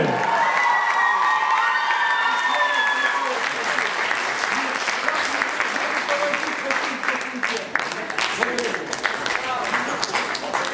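Audience at a Crimean Tatar and Oriental philology faculty celebration applauds and cheers loudly, dense sustained clapping with whoops throughout, a voice briefly audible early on.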